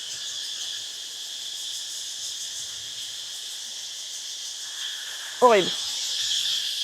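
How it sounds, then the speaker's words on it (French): Steady high-pitched cricket chirring fills the background throughout on the Similan Islands, Thailand, with a brief voice near the end. "Parce que il y a vachement les grillons."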